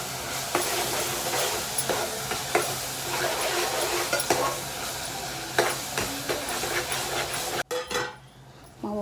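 Curry leaves and ground spice powder of fenugreek, mustard, cumin and coriander frying in a pan for egg curry, a steady close sizzle with occasional stirring scrapes, ending in a sharp clatter and quieter hiss.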